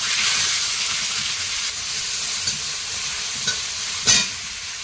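Beans, carrots and potatoes fry in hot oil with panch phoron, bay leaf, chopped onion and ginger-garlic paste, making a loud, continuous sizzling hiss close up, with a few light utensil clacks and no voices.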